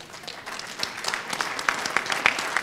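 Audience applause at a technical panel event on public finances, a scattered crowd clapping steadily for under three seconds, moderately loud with individual claps standing out.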